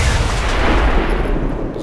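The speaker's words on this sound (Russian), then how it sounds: "Звук взрыва классно сделал" An explosion in XCOM 2, a dense broadband blast-like rumble filling the whole short moment, loud and sustained with a gradual fade, with no voices over it.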